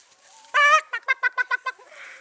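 A pet chicken clucks close up: one long drawn-out squawk followed by a quick run of six short, evenly spaced clucks, loud and clear with no talking.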